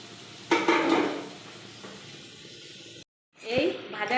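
Small crab legs sizzle and hiss in a frying pan, with a burst of stirring scrapes, a steady fry underneath, a brief cut, then more sizzling as a voice speaks.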